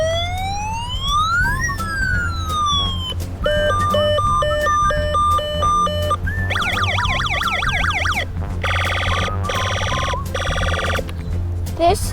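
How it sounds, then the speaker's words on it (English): Toy police motorcycle sounding several electronic siren patterns in turn, sweeping wails, square-wave yelps and fast warbles, loud and close with brief switches between them. "There's 3 different siren sounds."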